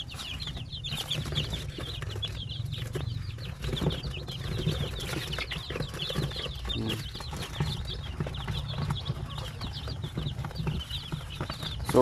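Newly hatched chicks moving about inside an incubator, with soft rustling and flapping and a steady bed of high, thin peeping throughout, carried over a continuous low hum.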